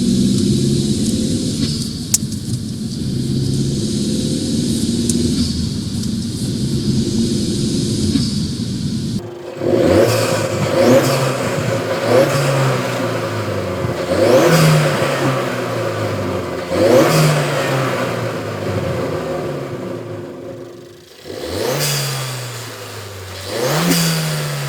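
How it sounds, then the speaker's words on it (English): A turbocharged small car with an upgraded intake cone accelerates in repeated pulls, loud engine rising and falling with airy intake sucking and turbo spool, with a brief drop-off and a hissing release near the end. "When you press the gas pedal harder, you hear how the cone sucks in air and the turbo spins up."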